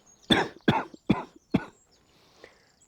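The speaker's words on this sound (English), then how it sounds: "Typical get a cough when I just start filming." Four quick, close coughs in an even rhythm, followed by a faint trailing sound and quiet.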